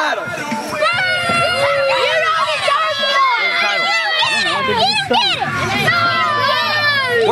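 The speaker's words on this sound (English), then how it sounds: "This crowd is not happy that Maddox has won." A wrestling crowd at a championship match jeers loudly after Maddox retains his title, a dense wall of shouting, whistling and squealing voices with many children, sustained and near.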